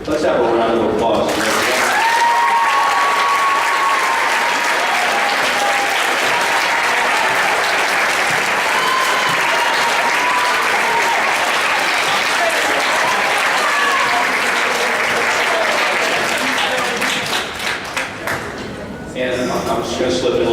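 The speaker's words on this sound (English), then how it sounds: "Let's have a round of applause" A banquet audience breaks into sustained applause, a dense, loud wash of many hands clapping for about eighteen seconds before thinning and trailing off, with some voices mixed in.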